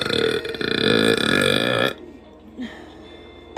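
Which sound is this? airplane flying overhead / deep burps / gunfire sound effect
deep burps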